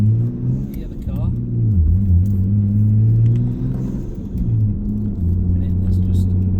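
Interior engine drone and road rumble from a 1999 Nissan Skyline R34 GTT with its 2.5-litre single-turbo engine, cruising with windows down; a steady low hum with mild swells, and talk heard faintly in the cabin.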